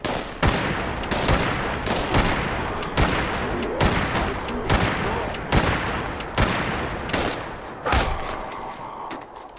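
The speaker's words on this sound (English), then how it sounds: "Just take quite a few shots to put him down." Lever action rifle firing rapidly in Fallout 76, a quad fire-rate weapon, about a dozen sharp loud reports in quick irregular succession, each with a short crackling tail, with no voices over them.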